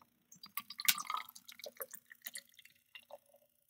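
Double IPA beer poured from a can into a glass, giving a run of close, light liquid splashes and drips with some fizzing, loudest early and thinning out toward the end.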